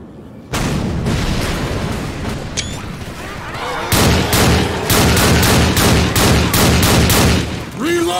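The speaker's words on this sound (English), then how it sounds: "We need to shoot down that barricade!" Gunfire in Left 4 Dead 2 aimed at a barricade: loud, close weapon fire starting abruptly, then a rapid string of heavy, evenly spaced shots in the second half before it stops.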